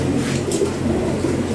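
A fancy pigeon with a puffed-up throat coos close by in a soft, low, continuous murmur, with a faint higher flutter over it.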